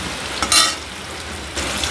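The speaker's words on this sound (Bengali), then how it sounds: "ডিমটা বেশ ভালোভাবে নেড়ে চেড়ে উল্টিয়ে ভাজা করে নেবো সুন্দর করে" An egg sizzles in hot oil in a pan, with short scraping stirs and flips that bring louder bursts of frying over a steady crackle.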